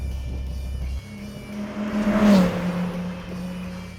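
A Dodge Viper ACR sports car, running a six-speed manual, pulls hard past in a straight line: a low engine drone steps up into a rising, swelling roar that peaks mid-way and then eases off, with no voices.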